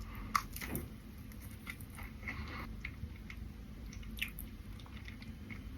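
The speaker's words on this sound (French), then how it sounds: "je vais essayer de surtout croquer la pâte feuilletée et la frangipane" Someone bites into a galette des rois of flaky puff pastry and frangipane, with a crisp crunch at the start, then soft, quiet chewing and a few faint crackles, up close and alone.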